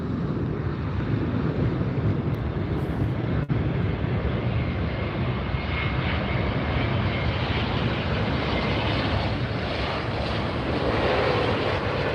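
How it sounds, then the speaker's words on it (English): A big jet airliner roars loud and continuous at Los Angeles International Airport, a broad steady engine rumble with wind buffeting the microphone throughout. "We are giving you the best view of the biggest jets in the world here at Los Angeles International Airport today."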